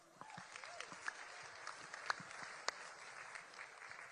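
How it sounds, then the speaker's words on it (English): Faint applause from the audience at the White House Correspondents' Dinner, a soft, steady patter of clapping with a few sharper individual claps standing out, heard at a distance. "Alex, give Alex a hand too as well."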